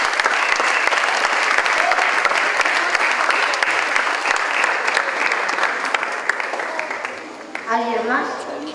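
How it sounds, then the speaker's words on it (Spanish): Sustained audience applause at a first public presentation of a student project: dense, even clapping that carries on for several seconds before tapering as a voice returns near the end. "un fuerte aplauso, por favor."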